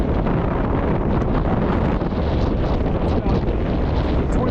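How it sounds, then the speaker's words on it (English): Heavy windstorm gusts roar around a 600 watt AmpAir wind turbine on a 20-foot mast: a loud, dense, continuous rush of wind buffeting the microphone, with no talk. "It's Wednesday about noonish during a big heavy windstorm"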